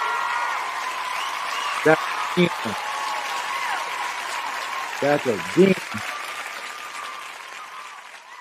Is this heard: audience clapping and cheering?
yes